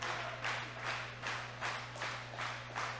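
Wrestling crowd cheering on Death Moth at a live match, rising in rhythmic swells of clapping and shouting roughly every second or so, at a moderate distance over a steady background hum.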